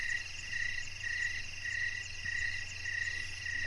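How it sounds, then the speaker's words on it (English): Crickets chirp in a steady, pulsing high trill over a low, constant night-time hum, with no voices present. "All I hear is crickets chirping."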